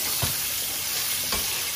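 Cubed potatoes sizzle steadily in a frying pan while being stirred, with two distinct scraping stirs standing out against the continuous close-up hiss.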